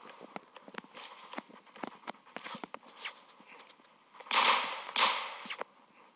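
Gunshots in an offline shooting video game: a run of sharp single shots, followed by two louder, fuller blasts close together near the end, with no voices.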